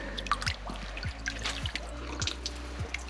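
Fresh water from a roadside tap at a wayside cross in Moldova, spattering and dripping close by in an uneven trickle over a low background hum, with no talking.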